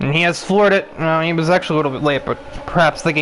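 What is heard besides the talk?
No distinct noise like a dog, phone or traffic.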